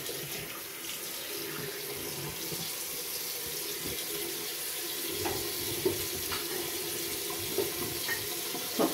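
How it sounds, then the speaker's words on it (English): A bathroom tap runs warm water into a sink while it is splashed onto a face, a steady close hiss of flowing water with a few small splashes and drips near the end. "So I'm just going to put a little warm water on my face."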